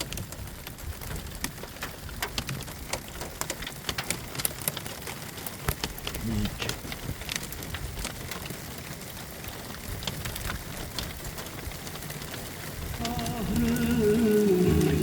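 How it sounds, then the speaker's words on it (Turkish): Dense pattering of hail striking surfaces on a highland plateau at Fındıklı, a constant scattered ticking and clatter that grows heavier and louder toward the end. "Şu gördüğünüz gibi doluya tutulduk, dolu yağıyor."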